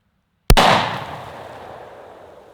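Sharp gunshot from a 10mm pistol fired at soda cans, a single loud crack followed by a long fading rumble and spray, with no talking over it.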